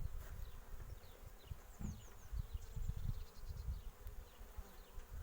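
Honeybees buzz around an open hive during a spring inspection of combined colonies, a faint, continuous hum with individual bees droning past close by, and no talk.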